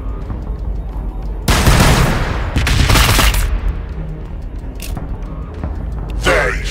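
Heavy gunfire erupts from a Warhammer 40,000: Battlesector battle, with loud, rapid bursts crashing in for about two seconds, a shorter volley following, and a last sharp burst near the end.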